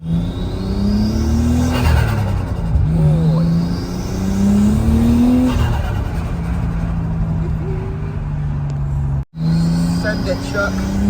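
A Nissan Skyline engine revs hard and climbs in pitch, shifting gears several times, loud and close, with a brief dropout near the end.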